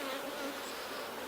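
Honeybees buzz steadily from an open hive during an inspection of the brood nest, a close, continuous dense hum that never breaks.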